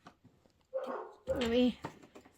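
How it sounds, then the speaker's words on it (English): Dogs inside a home bark and whine in a few short, moderately loud yelps with a whimpering tone, the clearest burst coming after a brief pause. "hope you're not listening to those mangy mutts bark"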